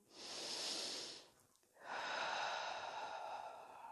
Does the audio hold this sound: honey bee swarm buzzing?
no